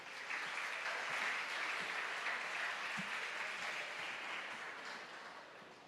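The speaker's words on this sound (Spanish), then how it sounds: "Recibamos al doctor Nelson con un fuerte aplauso." Steady audience applause welcoming a speaker at a conference, a sustained wash of clapping from a moderately distant crowd that tapers slightly toward the end.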